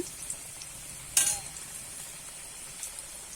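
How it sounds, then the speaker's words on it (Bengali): Potatoes fry in hot oil until reddish-brown, all kept to one side of the pan. A faint, steady sizzle runs throughout, broken once by a single sharp utensil clatter, with no voices. "আলুগুলো আমি লাল লাল করে ভেজে নেব"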